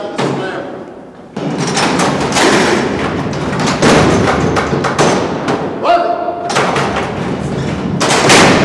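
A heavy prison cell door slams shut with loud, booming metallic thuds and a reverberant rumble, one big impact followed by further clanging bursts.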